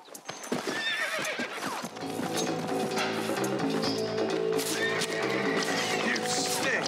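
A horse in the video game Red Dead Redemption gives a loud, drawn-out neigh over clopping hooves, the whinny ringing clearly through most of the stretch.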